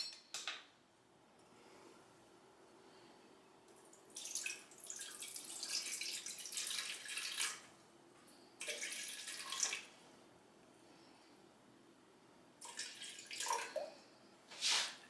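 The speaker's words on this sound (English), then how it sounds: "So that's why I was literally spooning out water." Water is spooned out in short splashing bursts onto a kitchen scale, quiet clinks and trickles repeating in several separate spells with near silence between them.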